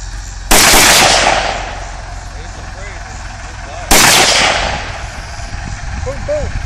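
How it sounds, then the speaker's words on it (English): Pistol firing at a range, two loud sharp shots a few seconds apart, each with a bright crack and a long echoing decay. "Double tap. Boom, boom. As fast as you can pull the trigger."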